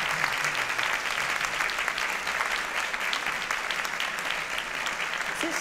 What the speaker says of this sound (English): We have a round of applause for our three panelists,